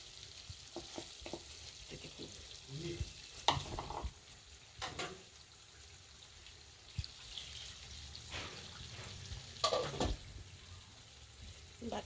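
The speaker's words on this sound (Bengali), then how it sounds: "এই দেখুন এবার আমরা পালং আর ধনের যে পেস্টটা ছিল সেটা দিয়ে দিচ্ছি।" Spinach and coriander paste added to a hot pan for chicken fries with a low sizzle, broken by intermittent stirring scrapes and soft clinks, fairly close with no talking.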